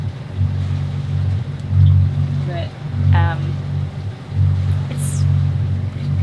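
A sailboat's engine drones steadily and loudly throughout on a flat, windless sea between Menorca and Corsica, with a person speaking briefly over it and a faint high whistle near the end.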